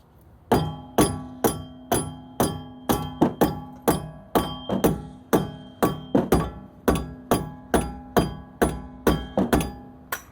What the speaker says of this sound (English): Let me grab a rubber hammer, or nylon hammer, I guess it is.